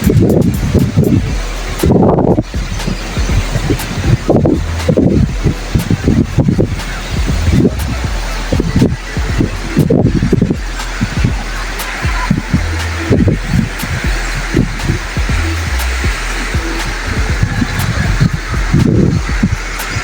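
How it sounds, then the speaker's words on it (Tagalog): Gusty outdoor wind buffets the microphone in rumbling bursts for the whole stretch, loud and uneven, with no talking. "Sarap ng simoy ng hangin."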